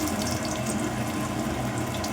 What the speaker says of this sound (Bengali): বেগুন ভাজা হচ্ছে, হ্যাঁ